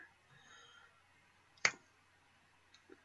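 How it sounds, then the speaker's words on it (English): A single sharp mouse click picking an attack in a Pokémon battle game, near and crisp against a quiet background, followed by a couple of fainter ticks. "let me click on superpower"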